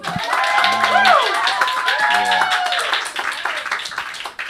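Audience applause for a band at a small live music venue, scattered clapping mixed with strong musical or synth tones sweeping and pulsing over it, fading toward the end.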